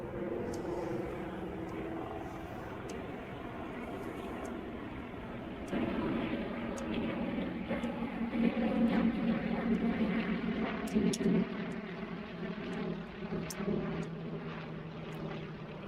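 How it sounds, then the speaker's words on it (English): Warbird airplanes at the Oshkosh mass arrival pass overhead for the break with a steady, fairly distant engine drone that swells midway and then eases, among faint background noise. "warbirds coming in overhead for the break"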